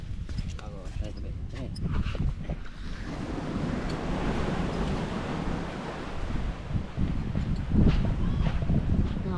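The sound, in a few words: sea waves and wind on the shore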